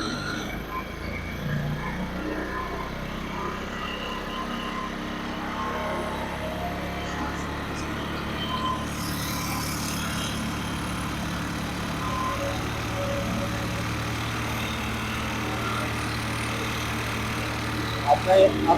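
A Honda CD 70 motorcycle engine runs continuously up close during carburetor adjustment, its hum slowly shifting in pitch as it revs a little, with a few clicks at the end.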